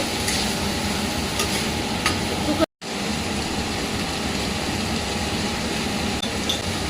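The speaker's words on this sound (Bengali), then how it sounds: "ভালো করে নাড়িয়ে নুন হলুদগুলো মিশিয়ে দিলাম" Spinach curry with aubergine, pumpkin, tomato, salt and turmeric is stirred in a frying pan, a continuous sizzle with scraping stirs throughout and a brief cut of silence midway, a voice speaking over it.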